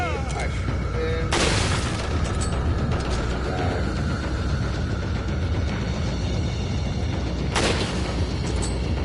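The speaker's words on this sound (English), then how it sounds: "I shoot him" Two sharp gunshots ring out in Resident Evil 4 HD, one early and one near the end, each a crisp crack with a short tail. Loud game ambience and rumble run underneath.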